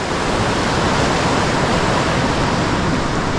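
Water pours over the second dam on the Vokė river, a dense, steady roar of rushing flow that fills the whole scene without letup.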